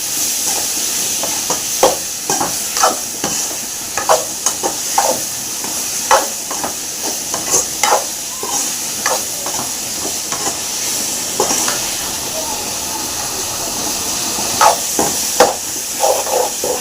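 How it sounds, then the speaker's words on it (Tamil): Tomatoes for egg curry sizzle in a hot pan under a loud continuous hiss, with regular scraping stir strokes and soft clicks recurring every second or so, close up and with no voices. "தக்காளி நல்லா வதங்கணும்."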